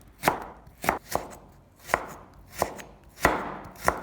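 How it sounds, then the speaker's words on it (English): A kitchen knife slices a carrot into thin strips on a cutting board, producing sharp, distinct chops spaced irregularly about half a second apart, close and clear against quiet surroundings. "Then cut into thin strips"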